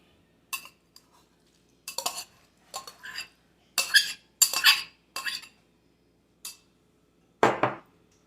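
Tuna fish being added to a seafood salad bowl, heard as a series of short clinks and scrapes of utensil against dish, coming in quick separate bursts with quiet gaps and a louder final clatter, no talking.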